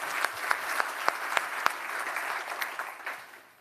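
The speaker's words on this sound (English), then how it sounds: "give them a round of applause" Modest audience clapping at a MongoDB.local London keynote, a sparse steady patter with a few sharp standout claps that gradually thins and fades out.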